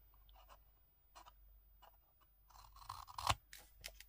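Scissors snip through paper for a Christmas-themed scrapbook explosion box, a few quiet, close cuts followed by a louder cluster of crisp snips and rustles near the end.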